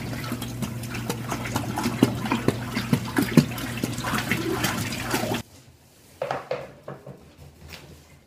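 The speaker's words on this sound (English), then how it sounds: "I need to add some water back today for evaporation, and again, this is fresh water." Fresh water pours steadily into an aquarium to top it up after evaporation, a continuous rushing splash that stops abruptly, followed by a few scattered drips and small splashes.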